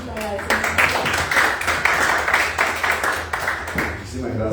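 A crowd claps loudly for several seconds, dense applause with a voice briefly audible at the start and end.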